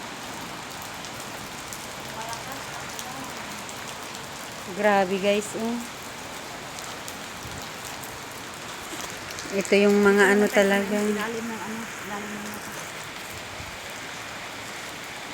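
Heavy rain in Kuwait falling as a steady dense hiss on surfaces, continuous and fairly close, with someone briefly talking over it twice.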